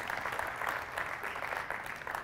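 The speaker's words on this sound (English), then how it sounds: "give these guys a round of applause for the excellent play" Faint, steady applause from a small group greets football players after a coaching session on attacking movement, a soft, continuous patter of hands clapping heard at a distance.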